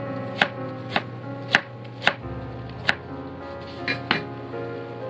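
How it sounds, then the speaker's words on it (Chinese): A knife cuts bamboo shoots into strips on a board, about eight sharp, close chops at an unhurried, slightly uneven pace, with no talk. "需要花点时间把麻竹笋切成丝状"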